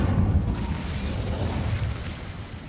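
A fire spell cast in the game Hogwarts Legacy gives a brief whooshing burst of flame that settles into a steady, moderately loud rumbling roar.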